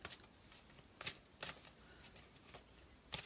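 Playing cards are shuffled close by in a few brisk riffling bursts with short pauses between them, soft and papery, with no voices.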